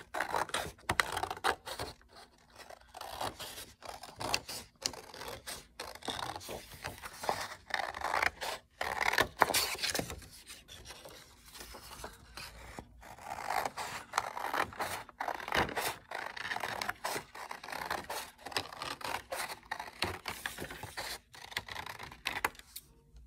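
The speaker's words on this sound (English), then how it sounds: "Once you print this sheet out, you're going to go ahead and cut it out." Scissors snip and scrape steadily through a printed paper sheet for an art lesson, a close, busy run of cuts and rustles with brief pauses, no talking.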